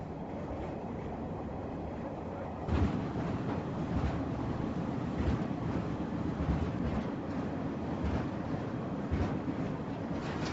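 A long passenger train of nearly 30 wagons pulls out of a station after a day's delay, giving a steady rumbling roll with periodic heavier clunks and thumps repeating every second or so, close and continuous with no talk.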